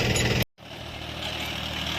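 A tractor engine idles in a field during moong bean sowing, a steady close rumbling drone that keeps going after a brief cut in the sound, with no talking.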